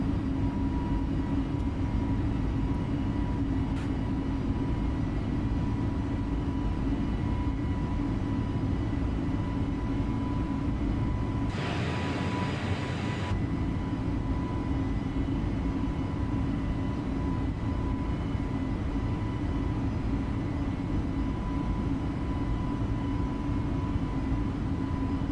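Airliner engines climbing after takeoff in Microsoft Flight Simulator, departing Tuxtla for Puebla: a steady droning roar with a constant hum, a brief louder hiss partway through, no talk.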